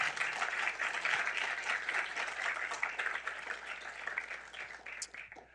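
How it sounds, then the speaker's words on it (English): Applause rises from a symposium audience for Mike Howell, a broad, steady patter of many hands at moderate volume that thins out and fades in the final second. "How about a big round of applause for Mike Howell?"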